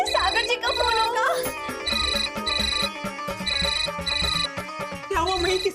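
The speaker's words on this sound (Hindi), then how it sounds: "लगता है सागर जी का फोन होगा" A phone ringtone plays loud and close, a repeating electronic melody in short bursts with brief pauses between them.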